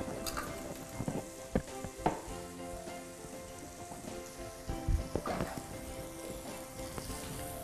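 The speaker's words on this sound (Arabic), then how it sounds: "لازم علينا نقليو مليح البصل هذا حتى يدبل لي." Onions fry in a pan with a steady crackling sizzle, punctuated by several sharp clinks and scrapes of stirring, close and moderately quiet throughout.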